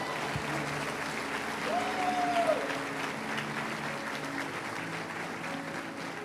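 A church congregation applauds, producing a soft, continuous wash of many hands clapping at a distance, heard faintly and evenly throughout with a few brief tonal sounds drifting over it.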